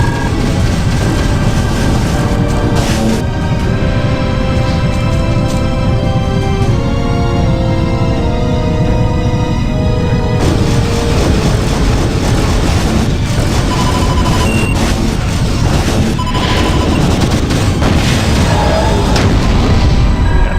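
Ballistic cannons fire in space in the WingProphecy video game, giving dense, continuous booming blasts and explosions layered over a loud, constant game soundtrack for about twenty seconds, with no voices.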